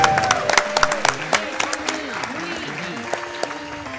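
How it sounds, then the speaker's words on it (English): An audience claps at a live speedrun marathon event, a burst of dense applause that stays steady through the clip, overlapping a game's music and sound effects. "I like even the tech staff was getting in on the claps."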